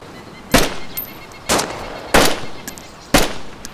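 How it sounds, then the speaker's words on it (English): AK rifles in the game DayZ fired as single burst shots: four sharp, loud bursts spaced roughly a second apart, with quiet gaps between. "here's all four AKs during single burst shots"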